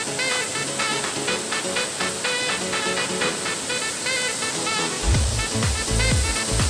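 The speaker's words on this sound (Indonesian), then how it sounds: "ini kalau ini namanya air terjun Karyang" Karyang waterfall pouring steadily in an outdoor setting, a constant broad rushing roar close by, with a few low thumps or rumbles near the end and no one speaking.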